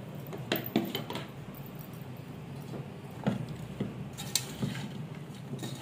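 Pickle being mixed in a bowl, chicken or mutton avakaya with chili powder, giving soft clinks and scraping of a spoon against the dish at irregular moments, fairly faint over a low room hum.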